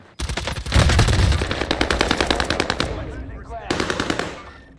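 Automatic gunfire in Call of Duty Warzone on Rebirth Island rattles in rapid bursts, loud and close, with a long stream of shots, a brief pause, then another burst.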